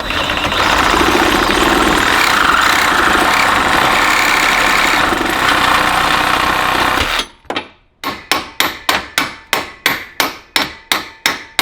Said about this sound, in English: So I'm gonna sawzall off the tip of that